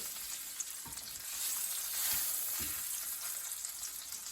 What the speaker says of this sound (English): I am going to flip it around one more time onto our skin side, and I'm going to make sure that it lands in butter